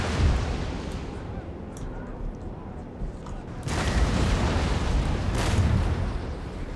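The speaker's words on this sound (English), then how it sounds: "actually all the cannons are firing" Cannon artillery fire in a Napoleon: Total War battle with many guns going off at once, rolling booms layered into a dense, continuous rumble that grows louder in the second half.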